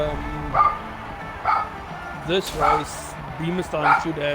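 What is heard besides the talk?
dogs barking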